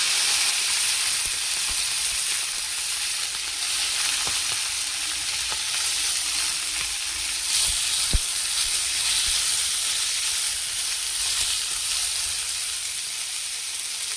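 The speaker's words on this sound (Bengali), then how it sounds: "তেল গরম হয়ে গেছে, চিংড়ি মাছটা দিয়ে দিচ্ছি। চিংড়ি মাছটা ভেজে নেব।" Prawns frying in hot oil give a loud, steady sizzle and hiss that carries on without a break, with a few soft crackles here and there and no voices.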